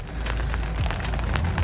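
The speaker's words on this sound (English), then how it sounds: "the rain is certainly coming in now" Heavy winter rain pours steadily over a carp fishing lake at Berners Hall Fishery in Essex, a dense, continuous hiss with scattered louder drop impacts throughout.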